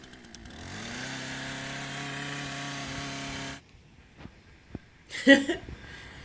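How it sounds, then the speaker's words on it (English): A chainsaw motor drones steadily for several seconds while cutting tree roots, then cuts out, leaving quiet clicks and a short burst of scraping noise. "So it's out with a trusty chainsaw."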